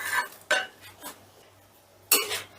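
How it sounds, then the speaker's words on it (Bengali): Fried rohu fish is stirred into curry in a pan, giving a few faint, scattered clinks and scrapes of a utensil against the pan, with quiet gaps between the strokes. "মিশিয়ে দিয়ে দিচ্ছি ভেজে রাখা মাছ।"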